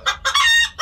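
An İspenç rooster crows loudly and close by on a farm, one full crow with short clucking notes before and after it.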